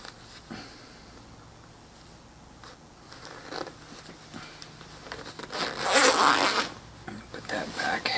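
A double zipper on clothing being pulled, with soft rustling and handling first, then a louder rasping zip run near the end, close to the microphone.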